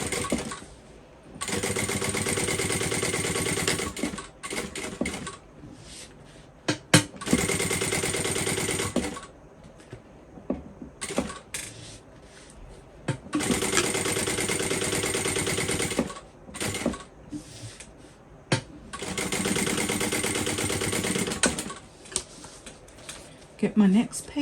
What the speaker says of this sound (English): Just basting it on at an 1/8 of an inch.